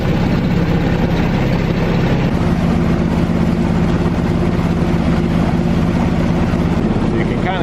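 A tour boat's engine running on the Valeria River in Brazil, a loud, steady low throbbing idle that fills the whole stretch, with a voice faintly audible underneath.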